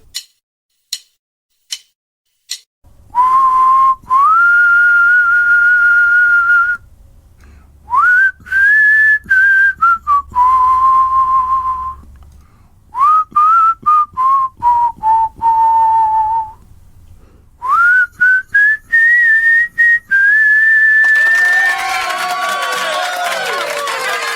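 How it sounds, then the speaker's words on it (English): After a few sharp ticks, a person whistles the slow, lilting melody of a love song in long sustained phrases, close and clear, with brief pauses and a noisy swell at the end. "why give a hint when I can just whistle it?"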